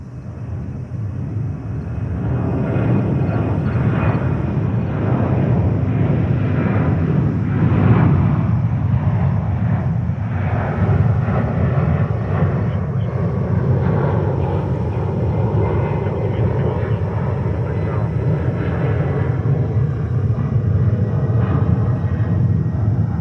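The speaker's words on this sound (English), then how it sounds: "Here we go, Delta 767 off to Los Angeles to the west coast." Delta Boeing 767 jet taking off from JFK in New York for Los Angeles: a loud, sustained roar of jet engines building and holding steady, heard from nearby without talk.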